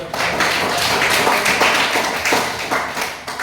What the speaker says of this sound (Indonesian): kalau tidak ada, tepuk tangan lagi